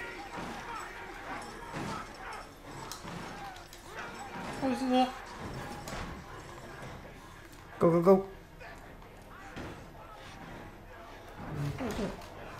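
Guard dogs bark in the horror video game Outlast, with a few short, fairly faint barks rising at intervals over a steady bed of game ambience and talking.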